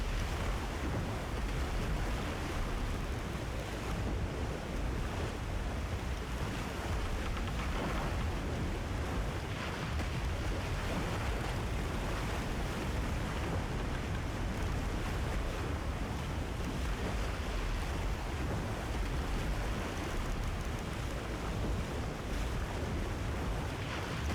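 Sailing a boat across the sea in the video game Tchia, a dense, unbroken wash of wind and surf that stays loud and even throughout with no voices.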